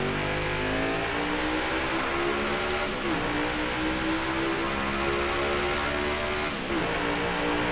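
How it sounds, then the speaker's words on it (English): Next Gen NASCAR stock car engine in NASCAR Heat 5 at Sonoma, loud and steady, with harmonic engine tones that dip and climb as the car brakes and downshifts into a right-hand turn, no talk over it. "Quick little brake and downshift to third to help the car turn into this right-hander."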